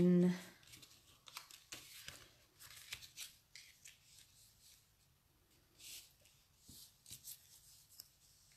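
Scissors trim excess material in a series of close, crisp snips and crinkles, with scattered handling noises and a voice speaking between the cuts.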